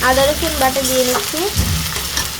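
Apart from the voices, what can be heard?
ginger garlic paste added to frying prawns, sizzling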